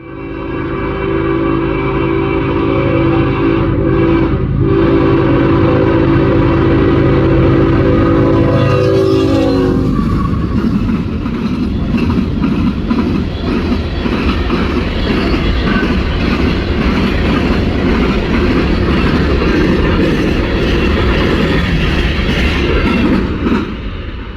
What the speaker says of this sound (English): All right, train just cleared my post 470 eastbound.